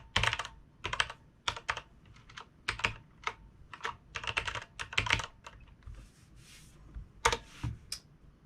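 Fast bursts of typing on a computer keyboard, close and crisp, with short pauses between runs of keystrokes and no talking.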